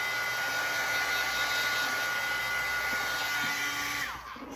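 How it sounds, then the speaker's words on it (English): A heat gun blows in a steady whirring hiss while drying texture paste on a mixed media craft project, running alone until it cuts off near the end. "with my heat gun just on the blue part"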